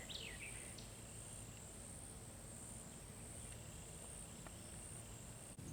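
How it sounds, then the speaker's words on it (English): A quiet hiking trail outdoors carries a steady, faint chorus of insects and crickets with a few brief, distant bird chirps scattered over the calm background. "I love listening to the birds communicate, the insects."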